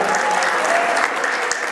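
Steady, dense applause from a crowd at a Christmas celebration event, even and sustained throughout with no break.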